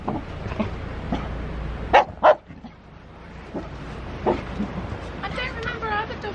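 A dog gives a couple of quick, close barks amid people chatting, followed by faint yips and whimpering.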